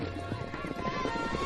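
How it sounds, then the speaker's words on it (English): Hooves of several horses clip-clop on open range ground as children round them up on the Mongolian steppe, a steady busy clatter with an occasional faint whinny and low voices in the background. "Outside, we watch the kids round up some of their horses."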